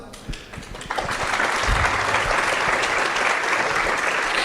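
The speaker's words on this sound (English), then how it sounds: "please a big applause" A Python conference audience at PyCon Colombia breaks into applause, a few scattered claps building within a second into loud, dense, sustained clapping from a large crowd.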